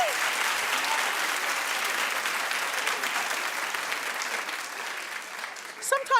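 A television talk show studio audience gives a sustained round of dense applause that slowly thins and fades, with a voice cutting in over the last moments.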